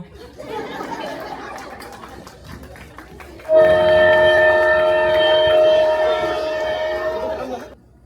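Rumbling train noise with murmuring voices, then a long, loud, sustained train horn blares for several seconds before cutting off.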